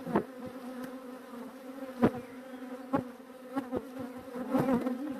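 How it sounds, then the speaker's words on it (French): Honeybees buzz steadily around a hive while brood frames are moved into a nucleus box, a close, continuous drone with louder bursts as individual bees pass near, no talking. "Donc là on va le mettre dans la ruchette."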